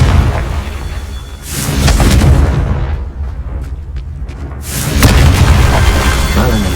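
Confringo fire spell explosions in the video game Hogwarts Legacy, two loud booming blasts with rumbling tails, separated by a quieter stretch of lingering crackle.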